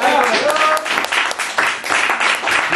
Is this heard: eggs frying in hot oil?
no